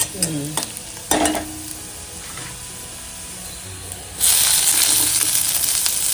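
Cumin, curry leaves, chopped onion and tomato sautéing in a pan for sambar, with a soft sizzle under a few sharp utensil knocks, then a louder burst of frying hiss toward the end.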